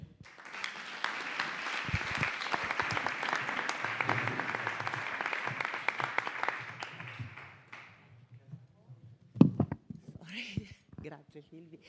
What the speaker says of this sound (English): thank you for the applause at the end